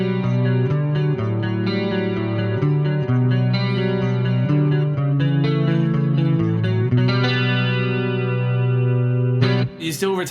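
Electric guitar run through Axe-Fx effects and summed to mono, chorused and distorted chords ringing with echo. Steady and fairly loud, with a brief noisy burst at the very end.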